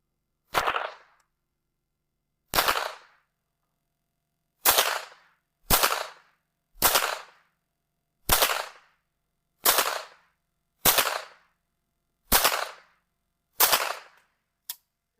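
Ruger 10/22 .22 semi-auto rifle firing about ten sharp, loud single shots, each one well apart, in a slow and irregular rhythm with silence between the cracks.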